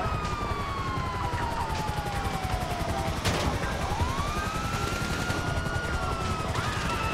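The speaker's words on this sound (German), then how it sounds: "Mach mal die Sirene aus." A police siren from the video game GTA V wails with slow rising and falling tones over a dense wash of crackling, rumbling game noise.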